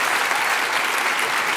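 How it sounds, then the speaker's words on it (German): An audience at a live comedy show claps loudly and continuously, with a thick, even wash of many hands that holds steady without pause. "da klatschen Leute immer"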